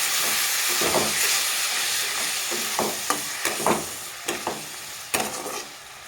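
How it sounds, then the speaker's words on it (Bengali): A spice paste of coriander powder and cumin powder with a little water sizzles and hisses in a pan for banana flower curry, broken by several sharp scraping stirs. "দিয়ে দেবো একটু জল তো মশলাটাকে আমি কষে নেব"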